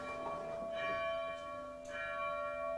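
A church bell rings with sustained, overlapping tolling tones that swell and fade at a moderate, fairly soft level, with no voices over it.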